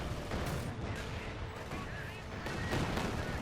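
Katyusha rocket artillery firing in a Company of Heroes 2 battle, heard as a rapid, rumbling string of blasts and bangs under ongoing game noise at a moderate level, with a voice talking over it.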